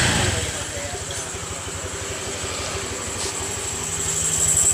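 A Honda Click 125i scooter engine idles steadily after starting, a close, continuous low throb that swells slightly toward the end, with a voice talking over it.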